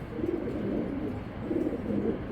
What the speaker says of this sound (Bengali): আরেকটা বার কবুতর দুইটা দেখে নেন আপনারা